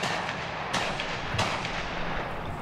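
Distant hunters' gunshots during autumn bird migration at a hilltop passage site, a few sharp far-off cracks over steady outdoor ambience.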